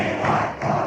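A throng of supporters cheers for Gerald Ford outside his hotel, a dense, steady roar of many voices swelling and dipping over less than a second.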